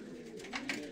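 A young racing pigeon coos softly in a loft, a low murmuring call with a couple of brief swells, close and unaccompanied by talk.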